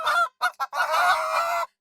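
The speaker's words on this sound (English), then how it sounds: "the chickens suddenly began fluttering and squawking again" Chickens in a coop at night squawk and flutter in agitated bursts: two short cries, a brief pause, then a long, loud run of clucking and squawking close by, with no talk.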